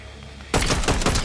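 Rapid gunfire in Fortnite Chapter 6 bursts in suddenly after a quiet moment, a loud, close string of shots fired in quick succession.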